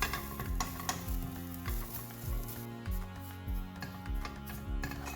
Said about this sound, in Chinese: 把20克的甜菜脯炒一炒